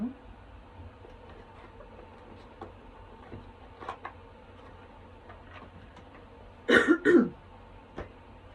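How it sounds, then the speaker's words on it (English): A single close throat clearing, two quick rough bursts, stands out near the end of an otherwise quiet stretch with faint buzzing and small taps. "I just felt like I had to clear my throat"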